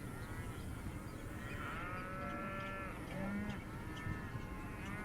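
Cattle low at a distance in a field while being moved by an ATV. Several drawn-out moos rise and fall over a low, steady engine rumble, with no talking.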